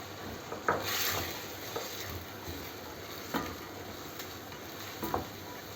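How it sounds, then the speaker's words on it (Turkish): Quiet, steady sizzling of chopped onions and meat frying in a pan, with a few faint stirring scrapes and clicks over the hiss. "Kavrulan etin üzerine 2 adet doğranmış soğan ilave edip"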